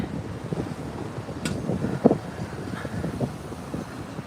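Steady wind noise buffeting the microphone on a beach walk from Santa Monica to Venice Beach, a low continuous rumble with gusty swells throughout and no talking.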